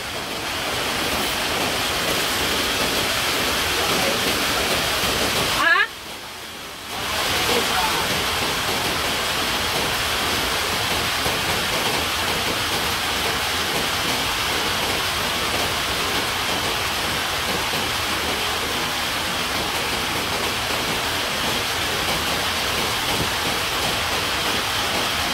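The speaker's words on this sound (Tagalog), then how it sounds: "Lakas ng ulan." Heavy rain pours down as a dense, loud, continuous roar, broken only by a short muffled dip near the six-second mark before resuming unchanged.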